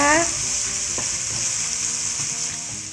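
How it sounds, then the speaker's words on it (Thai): Thai sam kler paste of garlic, coriander root and pepper sizzles loudly in a hot pan, frying with a steady crackle, and a utensil scrapes and stirs it now and then. "เดี๋ยวเราผัดสามเกลือของเราให้มีกลิ่นหอมสักเล็กน้อยนะคะ"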